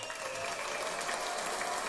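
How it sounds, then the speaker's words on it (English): A short burst of group applause, a fairly faint but continuous patter of many hands clapping without a break. "So round of applause for good credit."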